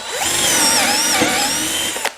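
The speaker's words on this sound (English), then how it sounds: "just twist the clutch to the drill setting if you don't want it to be limited on your torque for drilling" A 20V cordless drill runs in its drill setting, with no torque limiting. Its loud, close motor whine rises and wavers for about two seconds and then cuts off with a click, heard alone.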